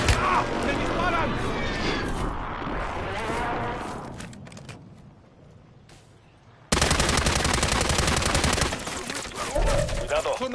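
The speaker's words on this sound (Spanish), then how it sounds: "¡Me disparan!" Call of Duty gunfire aimed at the player: dense, rapid automatic bursts that fill the opening seconds, thin out briefly, then return loud and sustained, with voices heard in the game mix.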